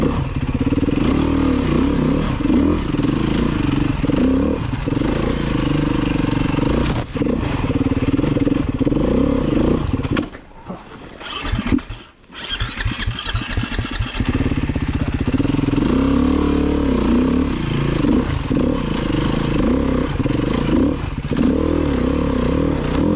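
A Beta 390 RR-S four-stroke motorcycle is ridden off-road with a loud steady engine drone, a brief dip and clattering interruption midway, then full power resumes.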